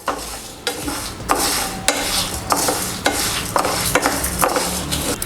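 A spoon stirs and scrapes toor dal powder heating in a pan, with repeated sharp scraping strokes roughly every half second over a soft, steady dry sizzle, close and moderately quiet.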